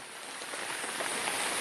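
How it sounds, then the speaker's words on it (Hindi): Light rain falls steadily on a surface during a rainy road journey in Java, giving an even, hissing patter that stays close and constant throughout, with no voices. "और बारिश हल्की हल्की से हो रही है"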